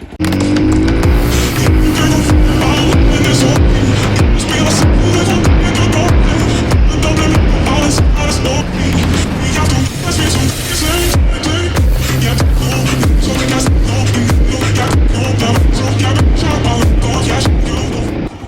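An enduro motorcycle, mirrors removed, ridden hard along forest trails in the mountains, its engine loud and close throughout with constant revving, rising and falling throttle, and jolting bumps from the rough ground.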